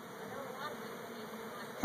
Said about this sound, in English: the female bees, which is the workers, that's what's flying all around us mostly